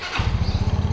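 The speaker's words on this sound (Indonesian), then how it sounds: "Sekarang gua akan coba langsung motornya." A 2016 Yamaha Aerox 125 LC scooter with 27,000 km fires up, its engine settling into a loud, close, rhythmic low chug after a brief quiet moment.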